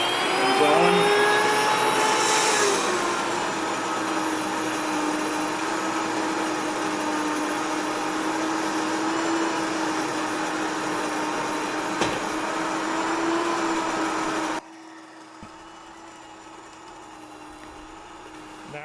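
A Whisper Mill electric grain mill runs with a loud, steady whirring roar that stays constant for most of the stretch, then cuts to a quieter hum near the end.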